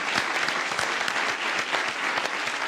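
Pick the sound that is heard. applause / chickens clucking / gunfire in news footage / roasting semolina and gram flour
applause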